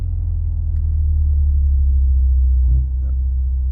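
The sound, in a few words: Porsche Cayenne car driving past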